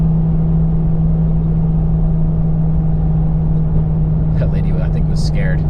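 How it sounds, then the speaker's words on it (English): A Toyota truck on 35-inch tires with 4.56 gears labours uphill, its engine droning steadily and loud throughout, with a brief burst of something at the end. "This truck always struggles getting up this."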